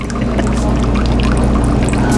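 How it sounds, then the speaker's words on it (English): Milk poured straight down the middle into a grande non-fat latte at a Starbucks bar, a steady, close liquid pour over low hum from the café. "We're just going to pour it in milk straight down the middle"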